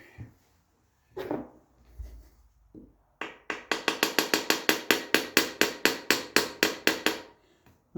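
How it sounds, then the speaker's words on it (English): A small hammer strikes a Triumph TR6 gearbox in a quick, even run of about eighteen light, close metallic taps, after a few scattered bumps and handling noises. "where's my little hammer?"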